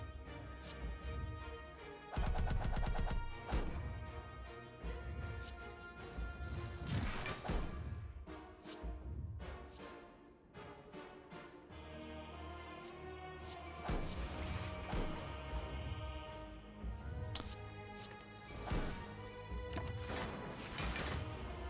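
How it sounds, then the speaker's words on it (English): Rapid barrage of hits from a Pen Nib attack in Slay the Spire, a string of sharp whacks and crashing impacts repeating in clusters over a layered game soundtrack, moderately loud with no talking. "It's a pen-nibbed barrage."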